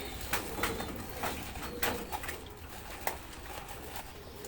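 Pigeons kept by a fancier coo softly in a quiet outdoor setting, with a few faint flutters and light rustles behind the low calls.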